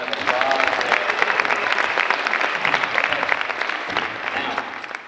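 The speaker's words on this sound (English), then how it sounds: "Everybody give Justice a round of applause." An audience at a college convocation breaks into loud, sustained applause that gradually tapers near the end, with a faint voice briefly audible over the clapping.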